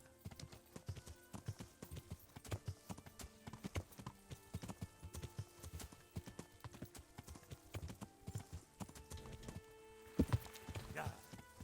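Horse hooves clip-clop steadily in the video game Kingdom Come: Deliverance, a busy run of close, rhythmic thuds that jumps in loudness near the end, with a person talking over them.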